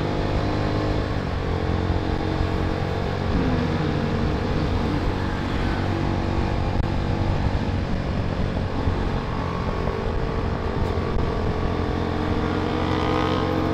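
Motorcycle exhaust with a deep, bassy, rounded note, revving and holding a continuous loud close-up drone with gentle swells in pitch throughout.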